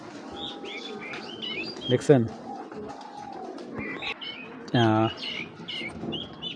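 A red checker pigeon coos in a few soft, repeated calls at close range, with small chirps around it and someone talking over the birds.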